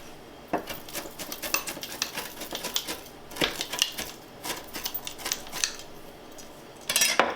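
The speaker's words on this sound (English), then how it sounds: "And I'm going to chop it fine so nobody will even know." Knife chopping spinach finely on a cutting board for a vegan stuffed-shell filling, a run of quick close taps and scrapes in irregular bursts with short pauses, no talking.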